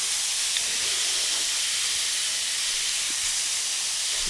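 Beef tips sear in a hot pan with a loud, steady, bright sizzle that stays even and continuous throughout, close and unbroken.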